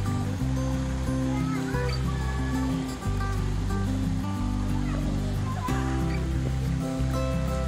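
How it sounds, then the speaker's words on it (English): A waterfall pours steadily nearby at Lake Catherine State Park in the Ouachita Mountains, a constant broad roar with faint tonal hum and distant voices beneath it. "this is a little bit of the falls coming down."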